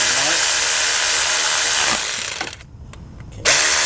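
A power tool whirs loudly and continuously while tightening a new timing belt tensioner on a Honda V6 engine, pausing briefly for a few ratchet-like clicks before the whine resumes.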